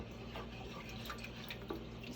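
Water running from a kitchen tap while cooking chicken soup, a quiet continuous trickle and splash with a few faint drips, heard alone with no talking.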